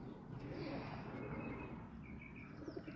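Young homing pigeons coo softly at a loft, faint low calls over a steady background hum, with a few light chirps scattered through.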